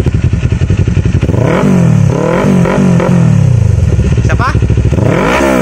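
A Kawasaki Ninja 400 fitted with a Yoshimura R77 exhaust and no silencer revs hard several times, loud and close, with rapid rising and falling engine pitch and a rough idle between blips; someone speaks briefly.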